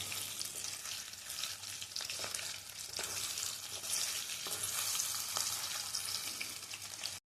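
Capsicum pieces frying in hot oil in a pan, a steady close hiss and crackle that runs unbroken, with faint stirring scrapes and no talking, stopping abruptly at the end.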